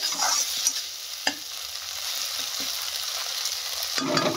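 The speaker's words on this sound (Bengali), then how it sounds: "এবার এটাকে ভালোভাবে কষিয়ে নিতে হবে" Prawn malai curry masala with ginger-garlic paste and a slit green chilli sautés in a pan, a steady close sizzle with a few clacks of a spoon stirring, and a louder scrape near the end.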